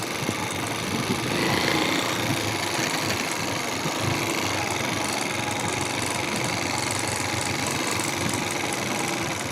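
A tractor engine running steadily while driving out to bale hay, a loud, continuous drone with an even vibrating rattle and no talk.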